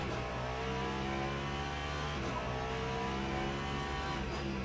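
A Cadillac race car in a racing video game at Sebring roars steadily at high revs, a loud sustained engine drone that never lets up.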